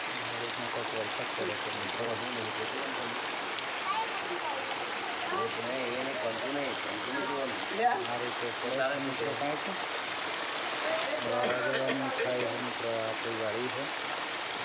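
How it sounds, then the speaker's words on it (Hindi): Rain falls steadily in a continuous wet patter and trickle, heard at moderate level throughout with a few brief louder knocks, while voices talk faintly underneath. "પાણી પડે વરસાદ ચાલુ ચાલુ છે"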